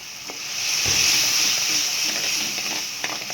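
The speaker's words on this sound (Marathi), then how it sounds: "आता आपण त्याच्यामध्ये कांद्याची पेस्ट जी आहे ती टाकून घेऊया व चमच्याने त्याला चांगलं हलवून घेऊया." Onion paste sizzling and frying in a pan for a Marathi red-masala drumstick curry, a steady bright hiss with a few soft spoon scrapes and clicks as it is stirred, close and alone.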